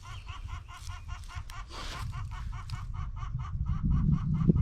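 Farm birds on a garden plot give a fast, repeating series of clucking calls in a steady rhythm, fairly close, over a low rumbling background that swells toward the end.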